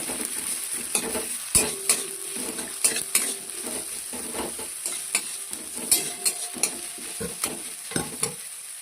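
Chopped onion and green chilli sizzle in hot oil in a pan while a utensil stirs them, giving a steady fry hiss broken by repeated scraping and clinking knocks against the pan.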